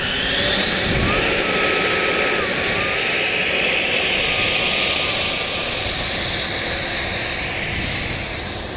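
An E-flite Viper 90mm electric ducted-fan RC jet taxiing backwards on an airfield, a loud sustained whine whose pitch rises and falls with throttle changes, close by and fading slightly at the end.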